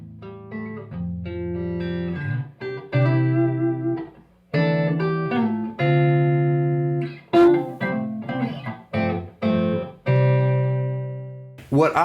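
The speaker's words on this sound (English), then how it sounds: "Now, just listen to the tube, just the tube amplifier." An electric guitar played softly through a Royal Bluesman tube amplifier, picked notes and chords ringing out one after another with gaps between phrases, clean and close.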